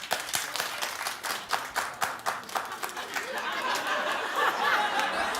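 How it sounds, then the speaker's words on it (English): Studio audience at a daytime talk show clapping on cue, loose irregular claps at first that swell into steadier, denser applause with some laughter mixed in, close and lively. "Clap if you've never done a drink or a drug."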